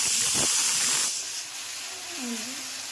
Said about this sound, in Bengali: এই দেখো তেলে তেজপাতা ফোড়ন দিয়ে দিয়েছি, এখন টমেটো কুচি।